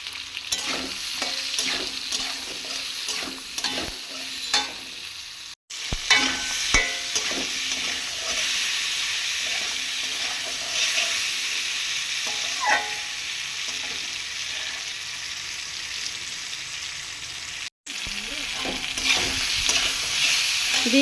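Spoon stirring a pan of moong dal base seasoned with turmeric and salt, a steady sizzle with scraping strokes throughout, briefly cut twice, no talking.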